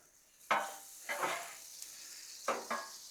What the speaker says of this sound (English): I'm gonna add just a little bit of oil to them and just give them a good mix now